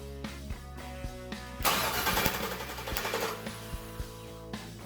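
A swapped LS 5.3 V8 in a car is cranked over, with a rough, loud mechanical whirring and rhythmic knocking that swells in the middle, then eases off into repeated clicks.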